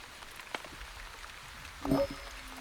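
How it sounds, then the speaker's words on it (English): Rain falls in a video game with a steady soft patter, a brief louder burst of drops near the end, and no talking. "We've got more rain."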